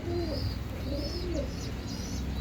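Pet pigeons coo softly in a loft, repeated low rolling calls overlapping in a gentle rhythm, with faint higher chirps above and no voices.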